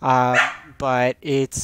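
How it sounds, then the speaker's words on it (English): A dog barks three times in quick succession, loud and close, with a person speaking briefly over the barks. "Sorry about the dog."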